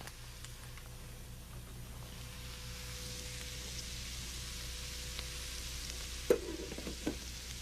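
Onions and garlic cooking in a pot for collard greens, giving a quiet steady sizzle with a couple of faint stirring clinks near the end.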